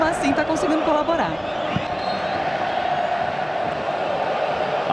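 Grêmio supporters roar at the Olímpico stadium during a Campeonato Brasileiro match against Flamengo, a loud, sustained crowd din of cheering and chanting filling the stadium, with a commentator talking over it.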